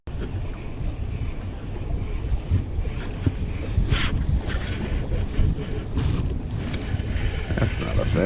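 A rented boat runs across open water, its motor a steady rumble mixed with wind buffeting and the splash of waves, fairly loud and continuous with occasional gusty bursts.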